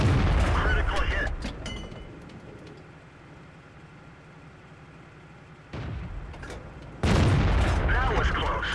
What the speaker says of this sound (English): I'll pull up here and shoot into his flank a couple times and take him out